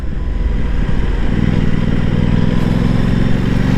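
An Aprilia Tuono 660 Factory motorcycle at full throttle from around 4,000 to 5,000 RPM, its induction noise a loud, steady, throaty engine drone that rises into a stronger humming pitch partway through, close and continuous with no talk.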